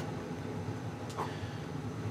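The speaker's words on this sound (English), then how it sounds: "Pardon the loud noise in the background. The hot water heater is going." A household hot water heater runs in the background, a steady low droning rumble with a constant hum, faint and unbroken, with a small click partway through.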